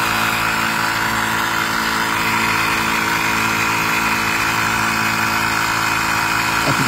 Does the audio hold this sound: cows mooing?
no